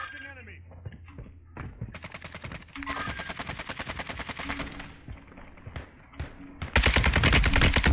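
Video game gunfire in Warzone 2.0, scattered single shots building into sustained rapid automatic bursts, loud and close, with brief talk mixed in.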